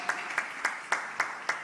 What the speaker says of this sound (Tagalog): Palakpakan natin ng mahal na Panginoon.